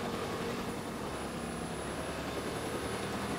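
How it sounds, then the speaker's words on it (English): Police helicopter in the video game Watch Dogs 2, a steady continuous rotor and engine drone holding at an even level for the whole stretch, with no talk over it. "Can you fuck off, chopper?"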